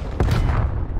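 A frag grenade explodes in Call of Duty Cold War multiplayer, one loud, close boom with a short rumbling tail.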